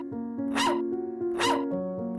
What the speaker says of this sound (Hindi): ये छोटे क्यों भौंक रहा है?